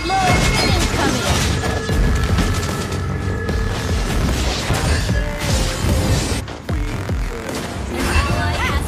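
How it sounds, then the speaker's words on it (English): Explosive hero ability going off in a multiplayer video game battle, with heavy booms and crashing impacts over a busy mix of game effects and character voice lines. "Explosion incoming!"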